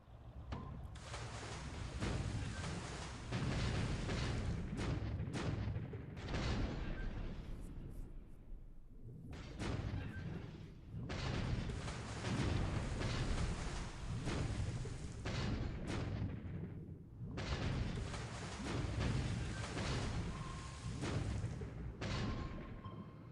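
Naval combat in the War in the Pacific strategy game produces sustained, loud rumbling gunfire and booming blasts in three long bursts separated by brief lulls, with someone talking over the action.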